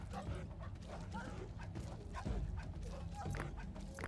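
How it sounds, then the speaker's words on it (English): In the video game Dawn of Man, a dog barks and yips in short repeated bursts, mid-distance, mixed with game ambience and other animal noises, and a person talks over the sounds. "Ah, the dog."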